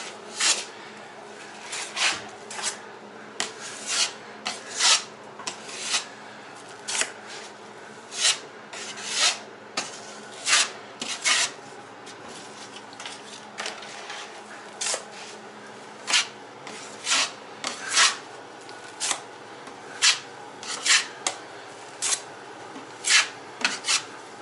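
Work on an untapered top drywall seam during a kitchen renovation: repeated rhythmic scraping strokes, each a short rasp with brief pauses between. The strokes are close and fairly loud, with no talk over them.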